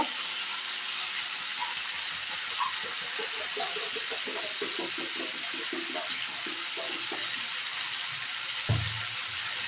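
Hot water pours into a cooking pot of taro and potatoes with a steady, close hiss and splashing that lasts throughout, ending with a brief clunk near the end.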